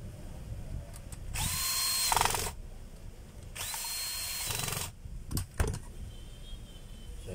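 A power drill drives screws into a motor field coil in two sustained whirring bursts of about a second each, followed by a few short clicks and taps, fairly close in a quiet room.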